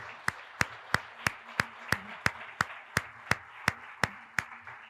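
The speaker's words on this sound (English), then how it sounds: "give a big round of applause for the amazing children" A single loud, sharp clap repeats about every third of a second in a steady slow rhythm, as if one person is applauding close by during a children's public speaking certificate ceremony. No one speaks.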